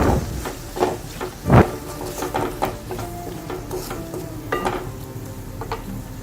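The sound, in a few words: sautéing chopped tomato with onions in a pan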